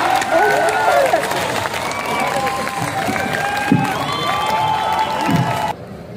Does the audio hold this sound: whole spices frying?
no